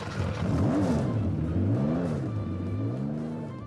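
A TVR sports car engine fires up in the Roblox driving game Driving Empire, cranking into a throaty idle and then swelling through a couple of quick revs before settling, close and alone.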